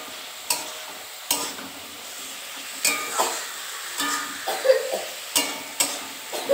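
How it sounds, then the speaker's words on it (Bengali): Spinach with potato and bori being stirred in a pan at home, with a string of scraping stir strokes and soft clinks over a light sizzle. "তো আলু দিয়ে আর বড়ি দিয়ে পালং শাকটা রান্না করছি আমি আজকে।"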